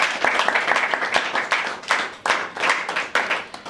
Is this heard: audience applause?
yes